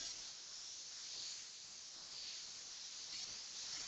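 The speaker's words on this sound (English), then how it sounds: "Spraying from around about 1 centimetre away and moving quite rapidly with my airbrush" An airbrush sprays paint onto a skull design from about a centimetre away, a soft, continuous, even hiss held steady and faint with no other sounds.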